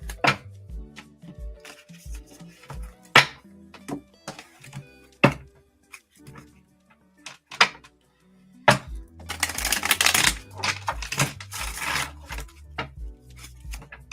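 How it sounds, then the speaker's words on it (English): A small tarot card deck is shuffled by hand, with a series of separate soft taps and thumps, then a longer dense riffling burst near the end. Close and fairly loud, with no talk. "These are small, these cards. Easier to shuffle though."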